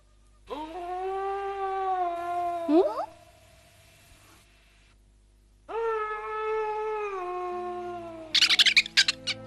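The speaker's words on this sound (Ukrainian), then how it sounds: "Чого та собака так виє?" A dog howls in two long, drawn-out wails separated by a short pause, loud and close, with some rustling and scraping noises around them.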